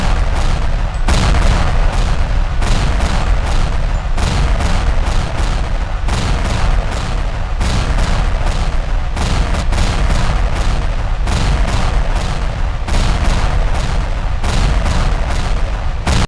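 A volley of gunfire from Sakura School Simulator, a video game, comes as a loud, dense burst of rapid shots and booms. It runs nonstop, with regular short breaks between sustained salvos.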